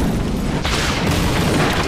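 A battle droid ship blows up in The Clone Wars animated series, a loud, dense, continuous explosion roar that rumbles steadily for about two seconds.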